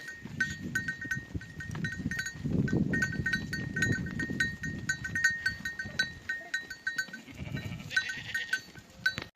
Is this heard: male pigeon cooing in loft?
no